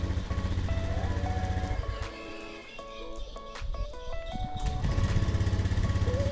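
A Honda Scoopy scooter engine idles steadily at close range, a continuous low mechanical hum that dips briefly in the middle before returning, with no talking over it.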